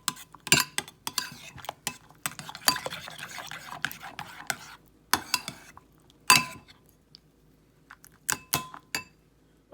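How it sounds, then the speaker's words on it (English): A spoon stirs raisins, walnuts and cinnamon into unsweetened applesauce in a bowl, giving a run of sharp clinks and scrapes against the dish in an uneven rhythm at close range. "Just by stirring it in and making a delicious filling for this"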